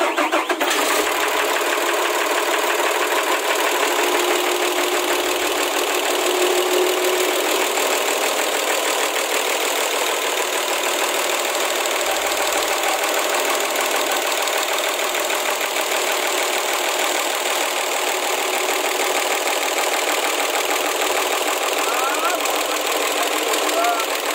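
A boat engine that had taken in water catches and keeps running with a steady, loud mechanical drone throughout, close up, with faint voices beneath the noise.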